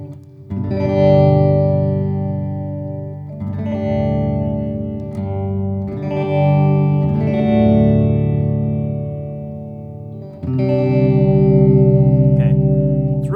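Sustained guitar chords through a Dunlop MXR Layers pedal, thickened by a deep polyphonic sub-octave layer, ringing full and loud with effects tails, changing every few seconds.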